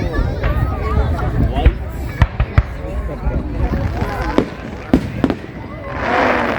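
Canada Day fireworks burst in repeated sharp bangs and crackles, some near and some farther off, while people talk and cheer excitedly over them.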